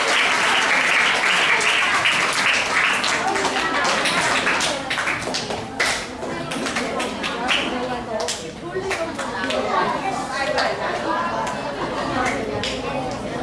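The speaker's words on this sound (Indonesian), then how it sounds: "Tepuk tangan sekali lagi untuk Kak Amalia." Seminar audience clapping in a sustained burst of applause that thins out over several seconds, with chatter and voices mixed in.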